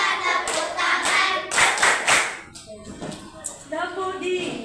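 Schoolchildren in an elementary school clapping hands together in a chant-and-clap game, several sharp group claps in bursts alongside rhythmic tapping, with voices chanting between them.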